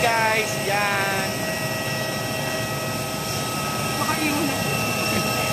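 Jet airplane engine roaring steadily and loudly throughout, a continuous broadband rush with a faint whine, heard from on board on arrival in Da Nang, Vietnam.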